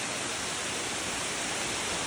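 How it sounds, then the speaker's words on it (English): Heavy rain pours down under a dark sky, making a dense, even roar that continues unbroken, with no voices. "Got really super dark, and then it just started pouring."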